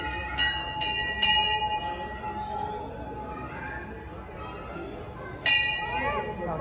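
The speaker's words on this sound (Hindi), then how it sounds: "मुझे घंटी बजानी" Metal bell at a Sai temple gives bright ringing strikes, two or three early and another near the end, over steady crowd murmur and people talking.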